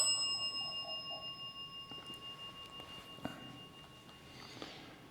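A 'dead bell' ghost-hunting device rings far off inside the haunted Palmer House Hotel: faint, steady bell-like tones holding under a quiet hiss, with a few soft clicks and knocks nearby.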